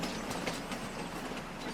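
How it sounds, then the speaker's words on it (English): A train in the video game Farming Simulator 25 rolls past with a continuous broad rumble and faint rhythmic clatter of wheels, steady and fairly loud throughout, with no talk. "the train."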